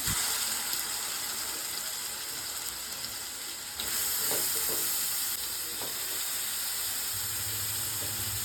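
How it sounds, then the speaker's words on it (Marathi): Halwa roasting in ghee in a pan, a steady soft sizzle with faint stirring scrapes, low and continuous without speech. "अगोदर मी हलवा चांगला ह्याच्यामध्ये तुपामध्ये भाजून घेते"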